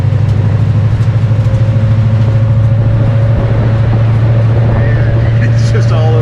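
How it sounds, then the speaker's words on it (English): A 1965 Ford Mustang with a 289 V8 and a stripped, empty interior drives along, its engine droning loud and steady with a rhythmic low pulse and constant cabin rattling, close up. "Driving something with no interior, like just rattling around all the time, but it's moving on its own."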